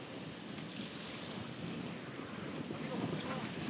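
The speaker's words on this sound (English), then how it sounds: "It's very windy." Strong wind buffeting a fishing pier, a continuous loud rushing roar with gusts hitting the microphone and waves faintly beneath, no one speaking.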